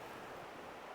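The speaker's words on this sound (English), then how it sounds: "you can hear the creek in the background" A creek flows steadily in the background along a Blue Ridge backcountry trail in February, a continuous broadband water rush with no voices.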